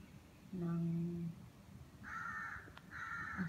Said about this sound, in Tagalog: Ang dami. Uwak! Uwak! Uwak!